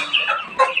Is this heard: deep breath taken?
no